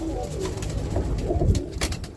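A roller pigeon kept in a kit box coos close to the microphone in soft, throaty repeated phrases, with some faint background rustle but no speech.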